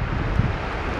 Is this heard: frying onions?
no